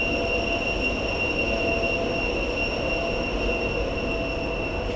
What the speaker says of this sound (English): So apparently we can take this train on platform 2.